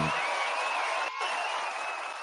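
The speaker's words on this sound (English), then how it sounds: "Let's give him a round of applause." A round of applause on a podcast, a continuous hiss-like wash of many hands clapping, fairly even and moderately loud, with a brief dip midway.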